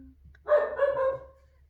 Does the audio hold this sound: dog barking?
yes